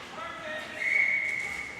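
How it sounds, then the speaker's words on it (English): A sharp, high whistle blast cuts through a noisy arena background, lasting under a second before the crowd din carries on. "Whistle goes."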